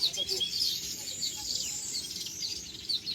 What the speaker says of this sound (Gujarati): ચકલા ચીલ કરે છે